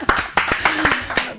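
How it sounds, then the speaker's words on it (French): An audience applauds a singer's announced October concert at the Olympia, with a handful of sharp, separate hand claps in an uneven rhythm that stay fairly loud and close. A voice is faintly present underneath. "ça mérite des applaudissements"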